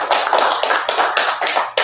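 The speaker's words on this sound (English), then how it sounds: "everyone please give an enormous applause" Applause in an online meeting, a small group clapping in brisk, slightly uneven rhythm, close and loud for under two seconds.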